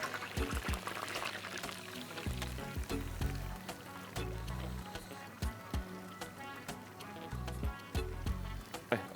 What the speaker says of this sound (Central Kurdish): کەمێک ڕۆنەکەی بەتاڵ دەکەم.